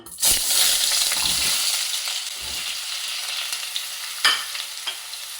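Chopped potatoes hit hot oil in a pan, producing a loud, bursting sizzle that settles into a steady crackle, with a couple of sharp stirring knocks later on.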